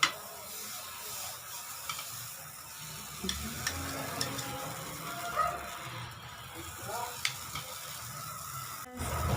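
Butter melts in a pan over a low flame with a faint, steady sizzle and occasional light ticks and stirring taps, all fairly quiet and without speech.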